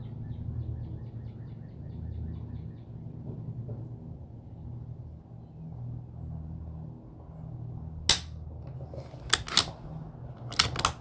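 Gunshots at an outdoor shooting range during sighter shots: a few sharp, loud reports come in the last few seconds, single and then in a quick pair, after a stretch of low rumbling background.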